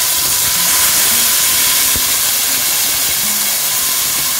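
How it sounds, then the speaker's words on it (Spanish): Sofrito hits a hot pot and sizzles in a loud, steady, close hiss with faint scattered crackles. "Tenemos la olla al fuego y le ponemos lo primero de todo, el sofrito,"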